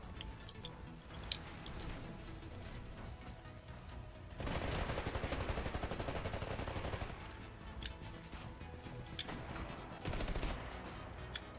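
Video game gunfire from a sniper rifle, the Longbow DMR, crackles in two dense bursts of rapid shots separated by quieter stretches, heard at moderate to low level with no talking.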